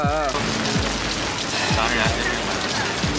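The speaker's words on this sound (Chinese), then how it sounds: "我们一到就下雨啊！" Steady rain pours onto nearby surfaces at dusk in Bangkok, a dense close patter throughout, with faint background voices and low tonal sounds mixed beneath.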